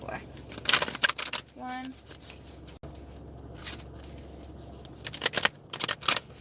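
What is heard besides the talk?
shuffling a deck of cards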